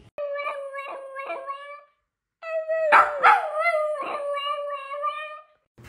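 A puppy howls close by in two drawn-out, wavering bouts, the first broken into short rising cries, the second longer and louder, with a pause between.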